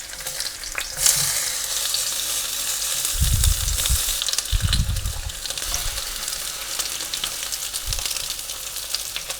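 Courgette slices sizzle and fry steadily in olive oil in a pan, a constant bright hiss with a few soft stirring or shifting sounds partway through.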